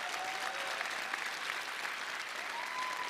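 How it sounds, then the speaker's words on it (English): Applause for New York City Council members at the Brooklyn State of the Borough address: a dense, steady crowd of clapping in a large hall, sustained throughout with no break. "Please, a round of applause for them all."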